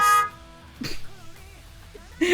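A truck horn gives one brief, loud honk at the start, followed by quiet murmuring and another short burst at the end.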